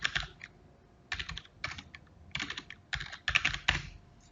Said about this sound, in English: And so you type in your email address.